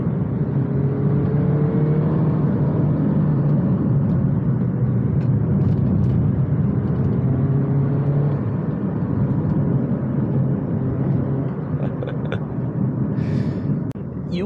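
A MINI Cooper S R56 with the N18 engine cruises on the road, giving a steady, loud cabin drone of engine hum and tyre and road roar throughout, with a few faint clicks and rattles near the end.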